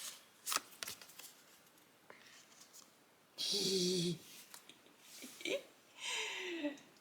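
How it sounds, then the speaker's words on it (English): Cards being shuffled in a few quick riffling bursts, close and crisp, separated by soft handling noises and brief pauses. "let's do some shuffles"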